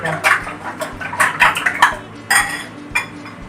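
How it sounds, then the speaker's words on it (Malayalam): Egg and milk mixture being beaten in a bowl for bread toast, with repeated clinking and scraping of a utensil against the bowl in irregular bursts, close and fairly loud, no talking. "ഇനി ഇത് നന്നായിട്ടൊന്ന് അടിച്ചു കൊടുക്കാം നന്നായി ഒന്ന് മിക്സ് ആവട്ടെ"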